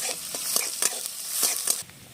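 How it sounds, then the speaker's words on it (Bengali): Chopped onion and capsicum fry in a pan while a spatula stirs and presses them, rhythmic scraping strokes over a bright sizzle that drops away near the end. "ক্যাপসিকাম কুচি দিয়ে দিচ্ছি এখানটা দিয়ে একটু ভালো করে মেরে নেব"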